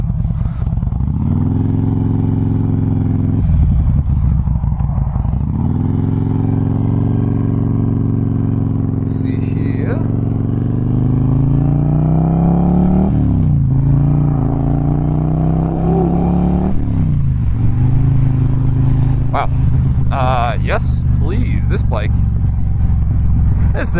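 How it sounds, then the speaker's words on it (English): A 2008 Harley-Davidson Road King with a Twin Cam engine rumbling steadily at close range on a ride, its low throbbing note rising and falling with throttle while someone talks over it throughout. "It's got that perfect amount of rumble to it. Sounds like a motorcycle, but it's not overbearing"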